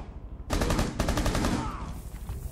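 Gunfire in the video game Rainbow Six Siege rattles out as rapid automatic bursts, loud and close, with a short pause between bursts before fading into reverberant tail.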